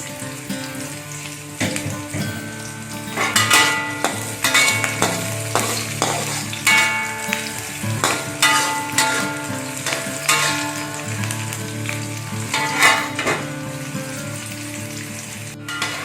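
Garlic and thin green chillies sauté in a hot pan. A steady sizzle runs throughout, broken by repeated scraping knocks from stirring at close range, with no talking.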